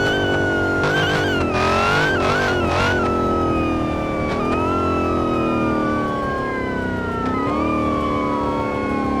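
In the BeamNG.drive video game, a Hellcat-engined Dodge Charger's supercharger whine revs and shifts pitch continuously, with a wailing police siren weaving through it, steady and loud without pause.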